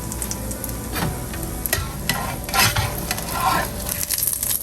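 A naan pizza base sizzles in a pan, a steady frying hiss with scraping, stirring clicks and small bursts of crackle throughout.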